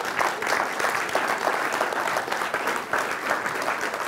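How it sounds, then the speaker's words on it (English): Audience applause at a public talk about the Te Araroa trail, a continuous dense burst of clapping from a crowd, fairly close and loud throughout with slight swells. "you have to give them a big round of applause"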